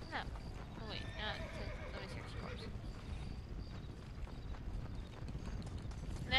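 Horse hooves clip-clop in the game Undead Nightmare, a steady trotting rhythm at low level with a couple of whinnies early on, mixed with game ambience.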